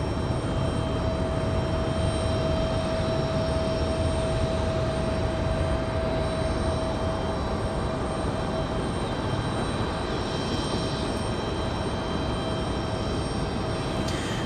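Passenger airliner American flight 2654 at Raleigh Durham International airport, a loud steady jet engine roar holding for the whole stretch, with a faint high whine above it.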